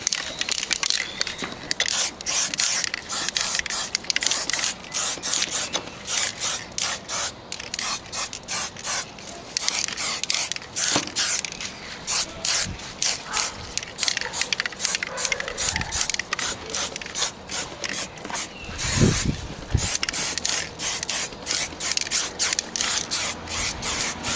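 Foliatec anthracite metal spray paint hisses from an aerosol can in long continuous bursts broken by brief pauses, coating a car wheel rim close by, with occasional can clicks and handling noise.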